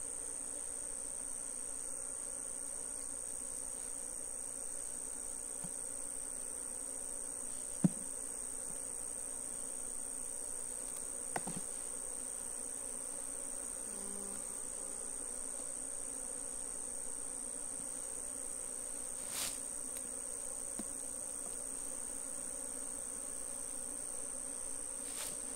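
A captured honeybee swarm in a hive box, moved from a nucleus box to a standard box, gives a faint, steady buzz, with a few soft knocks and no voices.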